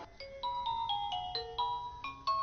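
A mobile phone rings with a bright, chiming electronic melody, a quick run of repeated tonal notes at moderate volume with no talking over it.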